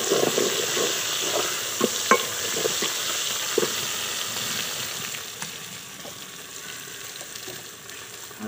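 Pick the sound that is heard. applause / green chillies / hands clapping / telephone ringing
green chillies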